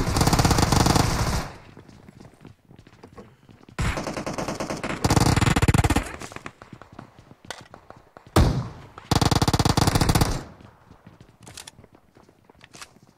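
Gunfight in the PUBG Mobile video game, with long bursts of loud automatic gunfire broken by scattered single shots and quieter stretches, close and harsh.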